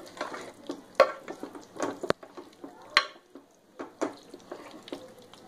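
A spoon stirs methi matar malai gravy in a pan after a cup of water is added, giving soft wet swishing with a few sharp clinks against the pan, close and fairly quiet, with no voices.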